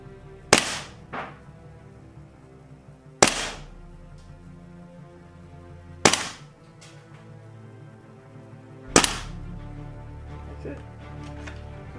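Four sharp airsoft shots from a WE PDW gun fitted with an RA-Tech barrel and hop-up, spaced about three seconds apart, each a crisp close crack with a brief tail over a faint hum.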